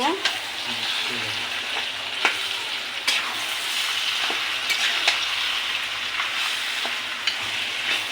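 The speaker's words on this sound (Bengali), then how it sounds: "এখন আমি এটা ভালো করে মিশিয়ে নেব" A salted olive pickle mixture sizzles steadily in a pan while a utensil stirs it, giving a continuous close frying hiss punctuated by sharp scrapes and clicks at irregular intervals, with no voices.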